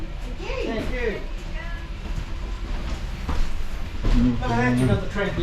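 An old tram in Christchurch, New Zealand rumbles along with low rolling noise and faint rail clatter, while people talk over it in the car.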